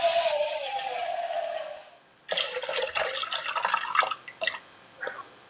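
Water streams from a tap for about two seconds, stops, then pours in short bursts and splashes into a Thermomix bowl while salmon patties with tagliatelle and lemon-dill sauce are prepared; no one speaks.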